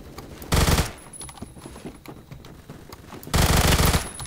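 Two loud bursts of automatic gunfire from the Phantom Forces shooter game, one near the start and one near the end, with quieter game sounds between them.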